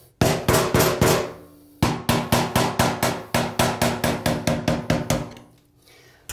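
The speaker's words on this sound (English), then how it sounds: "You can take an old chisel, put it on the edge of that, and kind of go square on just to create a dent" A hammer taps an old chisel against the edge of a bathtub in quick, evenly spaced metallic strikes, two bursts of about four and then a dozen blows, loud and close, with no speech.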